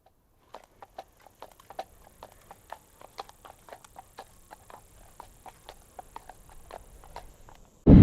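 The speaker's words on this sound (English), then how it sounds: "Rick rides his horse in here and they made it look like he was coming into town" A horse clip-clops at a steady walk on a hard street in a small-town setting, with crisp, evenly spaced hoofbeats that stay fairly close and continue alone for several seconds before a sudden loud burst at the end.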